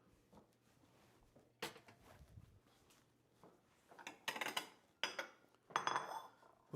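A pan of shrimp and grits is moved off the stove, with scattered metallic clinks and clatters of cookware and utensils, a few sharp knocks standing out against a quiet kitchen.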